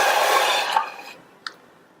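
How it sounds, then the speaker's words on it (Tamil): Half a litre of water goes into a pot of soup with sautéed carrots, a close rushing pour that fades out over about a second, followed by a single small clink. "அடுத்து இதுல 1/2 லிட்டர் அளவுக்கு தண்ணி சேர்த்துக்கலாம்."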